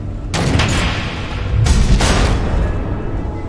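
Missile explosions in the Batman Telltale video game hit as heavy booming blasts, two large impacts with rumbling, crackling debris that fills the whole stretch loudly.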